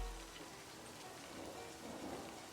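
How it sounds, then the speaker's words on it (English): Game rain from Livber: Smoke & Mirrors falls in a steady, even hiss, with a low rumble at the very start and a slight swell toward the end, heard alone without speech. "The raindrops fall on the paper, landing with soft patters."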